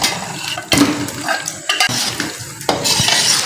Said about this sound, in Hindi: इसको अब फ्राई करने के बाद मैं ये अब चिकन डाल रही हूँ।